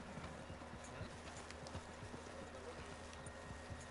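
Horse hooves clip-clop steadily in Red Dead Redemption, a rhythmic patter of many quick, soft strikes over a constant low game ambience, with no voices.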